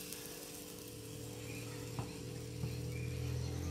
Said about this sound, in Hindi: देखिए हमारी कढ़ी में उफान आ चुका है